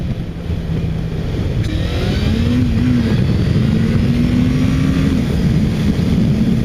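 A Honda CBF600 motorcycle ridden on the road gives a loud, continuous engine drone whose pitch rises and falls as the rider changes speed. Wind rush adds to it, with no speech.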